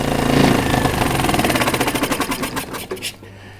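A small Gale outboard kicker motor running close and loud, a rapid steady putter that slows into distinct uneven firing pulses before dropping away near the end, with no clear talk over it.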